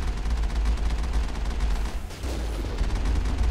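Mako vehicle guns firing in the video game Mass Effect, a loud, sustained burst of rapid repeating shots with heavy low booms, nearly continuous with a brief dip midway.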